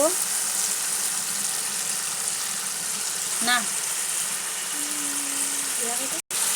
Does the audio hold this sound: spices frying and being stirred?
yes